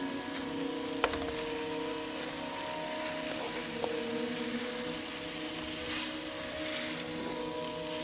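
Cut beef tripe stir-fried with an instant spice paste sizzles steadily in a pan, a close, continuous crackle with a few light scrapes and knocks of stirring.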